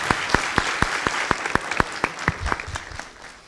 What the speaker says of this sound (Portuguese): Vamos dar uma salva de palmas aqui.